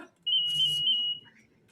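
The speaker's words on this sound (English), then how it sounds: "False alarm. It's just my new pager." A new pager sounds a steady high electronic beep for about a second, loud and close, with a faint murmur beneath it.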